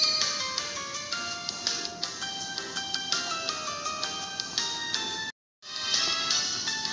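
A phone ringtone plays a melodic electronic tune, looping steadily with a brief cut near the end, heard during a Pokemon Masters EX gaming session.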